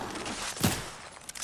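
Fortnite gunfire in the video game: one sharp, brief shot bursts out midway over a faint, steady game-ambience bed.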